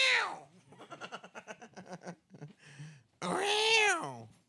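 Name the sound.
cat meowing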